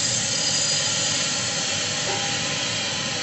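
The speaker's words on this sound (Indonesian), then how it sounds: "kemudian langsung kita isikan freon ya dengan membuka kran freonnya." Freon refrigerant hisses steadily as the charging valve is opened to refill a refrigerator after vacuuming, a continuous broadband rush that stays loud and even throughout with no talk.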